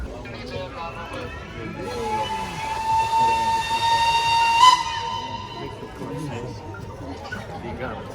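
A steam locomotive whistle sounds one long, steady blast over hissing steam and rail rumble, echoing off mountains in Maramures, Romania, with people talking faintly in the background.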